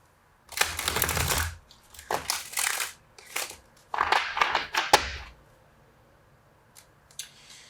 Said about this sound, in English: So we're gonna give it a couple shuffles.